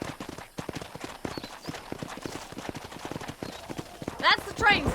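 Horse hooves clip-clop at a steady galloping rhythm in the Western game Red Dead Redemption, with a voice speaking over the hoofbeats and a brief whinny-like cry near the end.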